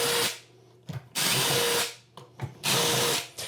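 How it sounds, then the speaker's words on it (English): A power drill pre-drills holes for toilet flange anchors during a toilet install, in three loud, steady bursts of whirring separated by short pauses and small clatters. "We're going to pre-drill some holes."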